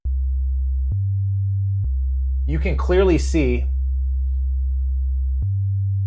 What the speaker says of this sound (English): I'm playing a sine wave.